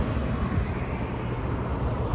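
Continuous broadband roar of road traffic, steady and fairly loud, like cars passing nearby with no break and no talking, on a windy day.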